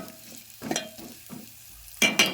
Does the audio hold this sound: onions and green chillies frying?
yes